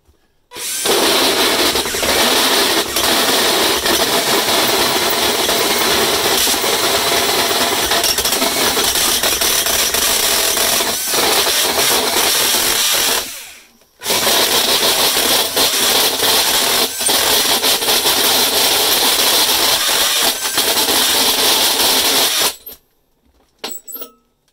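A Panasonic cordless power tool in drill mode cuts a downlight opening in a ceiling board, a loud continuous grinding whir that runs unbroken, stops briefly, then resumes before cutting off.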